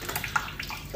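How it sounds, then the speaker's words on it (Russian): Water leaks and drips from a ceiling indoors, making a faint, irregular patter of splashing drops and trickling over a quiet background hiss. "капает, только сейчас оно усилилось раз в 10, наверное"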